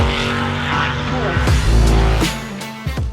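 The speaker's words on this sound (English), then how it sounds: "Those car sounds are courtesy of my next guest. That is his Pikes Peak hill climb race car." A Pikes Peak hill climb race car engine revs hard and close, with loud rising and falling pitch sweeps, sharp gear changes and cracks, and a deep roar swelling midway.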